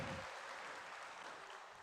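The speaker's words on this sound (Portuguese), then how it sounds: "Dê uma salva de palmas ao Senhor Jesus" Congregation applauding during a church service, a soft continuous patter of many hands clapping, distant and faint in a reverberant hall, steady for a couple of seconds.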